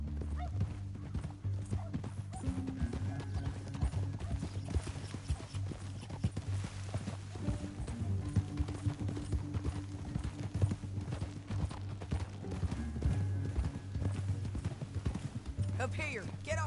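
Horse hooves clop in a steady, rapid rhythm in the Red Dead Redemption 2 video game, continuing beneath spoken dialogue and a low rumbling backdrop.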